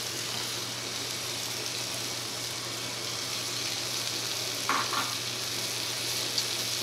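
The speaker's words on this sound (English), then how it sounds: "now that the onions are about a third of the way cooked, we're going to add our mushrooms" Onions and mushrooms fry in a pan with a steady, broadband sizzle that holds through the whole stretch, plus a brief clink or stir partway through and a small tap near the end; no one speaks.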